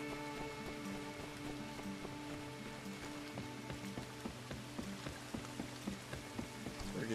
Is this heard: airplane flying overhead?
no